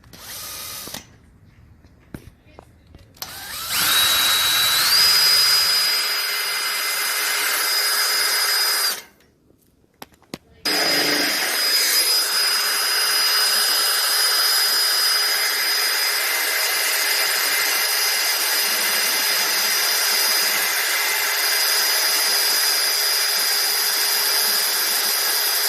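A power drill boring holes for a solar panel mount whines loudly and steadily, stopping briefly twice and then running on in long sustained stretches, close by with no talk.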